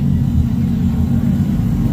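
An Infiniti Q60 engine rumbles at a street race, a loud, deep, steady low-pitched growl close by and alone.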